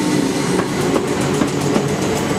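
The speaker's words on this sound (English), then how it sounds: "Interesting train." At Clapham Junction station a passing train gives off a loud, continuous roar, with rhythmic clickety-clack wheel beats over the rails throughout.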